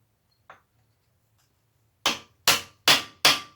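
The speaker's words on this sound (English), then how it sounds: "we will go with the drift and the big hammer right for it" Four heavy hammer blows on a steel drift set against a GASGAS EC motorcycle frame, coming in a steady, evenly spaced run after one faint earlier tap, each strike sharp and ringing in a quiet workshop.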